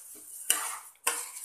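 A spoon stirs suji halwa with sugar in a pan over a medium flame, making two quick scraping strokes with faint sizzling in between.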